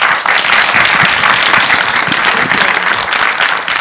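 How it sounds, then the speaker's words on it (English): Audience applause breaks out at a film festival event after a moderator is introduced, a dense, steady wash of clapping from many hands holding at full strength for about four seconds with no voices over it. "So big applause for Adel."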